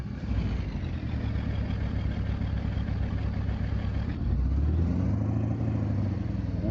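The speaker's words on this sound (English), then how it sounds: "We're gonna try out our new truck here." A truck engine idles in American Truck Simulator, a steady low rumble with a faint mechanical clatter that runs unbroken and close from start to finish, with no voices.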